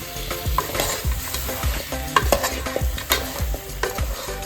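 Goat head pieces coated in chilli masala being mixed in a pan, with rhythmic, loud scraping strokes of a spoon about every half second over a frying sizzle, close up with no talking.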